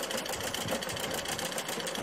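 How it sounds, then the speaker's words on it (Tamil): A sewing machine stitches a saree fall, running at a fast steady whir with a dense mechanical clatter, close and continuous with no talk over it. "இப்போ இதே மாதிரி இந்த கீழே இருக்கிறதுக்கு ஃபுல்லாக நீங்கள் மிஷினில் ஸ்டிச் பண்ணிடலாம்"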